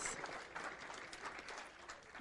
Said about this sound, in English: Give them a great big round of applause